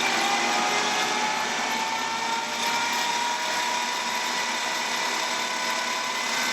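A small generator runs steadily with its RPM being raised, giving a dense, continuous mechanical whine and hum with a faintly rising tone; loud, close and alone, with no voices.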